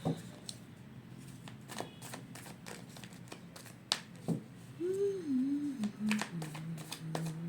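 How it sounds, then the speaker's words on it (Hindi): Tarot cards slipping and falling in a quick scatter of soft papery flicks and taps, close and fairly quiet, with a low hum and a brief tonal voice-like sound partway through. "सब कार्ड गिर रहे हैं भाई।"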